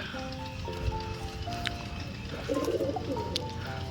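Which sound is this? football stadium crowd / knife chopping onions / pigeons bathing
pigeons bathing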